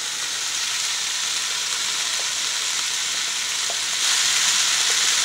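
Sausage fries in a pan with onion and red bell pepper, a steady dense sizzle heard close and alone with a few faint stirring taps, growing slightly louder near the end.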